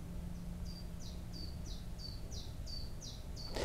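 Common chiffchaff singing outdoors, a run of about ten evenly spaced, thin two-note chips at a steady rhythm, moderately distant over faint background hum, ending with a brief thump.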